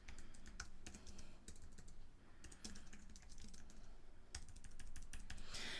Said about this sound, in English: and I'll start typing here.